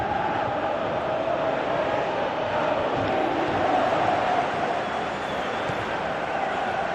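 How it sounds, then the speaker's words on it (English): A stadium crowd in a football video game keeps up a steady, dense roar and murmur for the full stretch, loud and unbroken, with no clear peaks or separate shouts. "you can feel and hear how the crowd are reacting to all of this"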